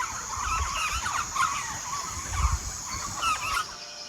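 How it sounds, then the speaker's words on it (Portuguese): Japó birds call at dawn in a misty forest, a chorus of harsh, honking cries rising repeatedly from a distance over a steady bed of insect hiss and low rumble. "De longe se ouve o canto dos pássaros japó a anunciar o dia"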